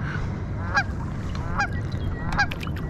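A goose honks near water where bass fishing is under way, three or four loud nasal calls standing out over a steady background rumble.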